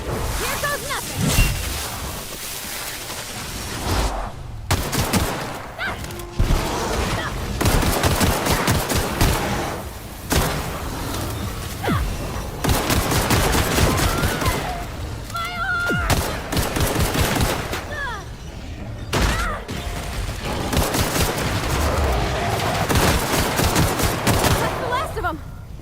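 Weapon fire in The Outer Worlds comes as long stretches of rapid automatic bursts, loud and near, broken by short pauses and whooshing sounds, with some voices in between.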